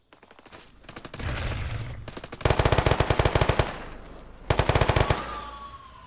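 Rapid automatic gunfire in a military shooter video game, heavy bursts of machine-gun fire in several volleys with short pauses between them, loud and close.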